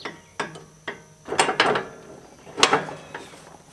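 Hood of a Troy-Bilt Bronco riding lawnmower being unlatched and lifted off, a few sharp plastic-and-metal clicks followed by a cluster of rattling knocks and clunks, close by, with no voices.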